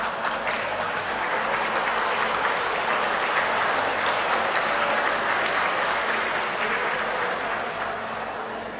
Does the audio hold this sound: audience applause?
yes